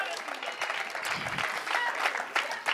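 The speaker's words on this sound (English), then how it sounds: "Give the Lord a hand clap of praise." A church congregation claps hands in praise during a sermon, dense and lively clapping throughout, with voices mixed in.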